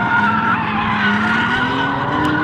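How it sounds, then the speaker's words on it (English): Cars drift at a drift event, their tires squealing loud and close in one steady, wavering screech with engine roar underneath for a couple of seconds. "a little bit of drifting going on"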